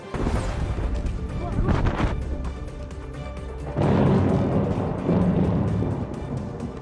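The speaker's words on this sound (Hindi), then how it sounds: "साल का सबसे बड़ा धमाका लेबनान की राजधानी बेरूत के पोर्ट पर वेयरहाउस में हुआ बड़ा धमाका" A warehouse explosion at a port in Beirut, Lebanon: heavy booming blasts and rumbling roar, with a second large burst midway, chaotic and loud, mixed with distant shouting voices.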